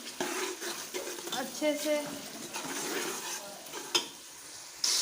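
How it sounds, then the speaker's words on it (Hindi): Soft tomatoes are mashed with a spoon in a pan, giving wet squelching and scraping under a light sizzle, with brief spoon knocks against the pan and someone talking over it. "इसको स्पून की मदद से इस तरह मैश कर लें"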